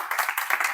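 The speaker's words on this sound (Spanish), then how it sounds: "Dese un aplauso fuerte," A church congregation applauds during a Sunday service, with dense, steady clapping from many hands throughout a short burst.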